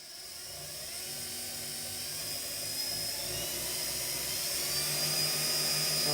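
Lathe spinning at high speed while turning acrylic keyrings, a steady high-pitched whine and whirr that grows slightly louder over time, with no talk.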